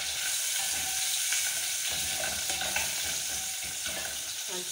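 Ginger frying in a pan for githeri, a Kenyan maize-and-bean dish, with a steady hiss and sizzle throughout and the scrape of a spoon stirring it, close and continuous.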